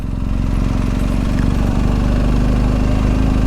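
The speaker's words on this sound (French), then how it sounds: "une petite balade en quad dans Paris" A quad bike engine idles steadily and close on a ride through Paris, a low, even chugging drone with no talk.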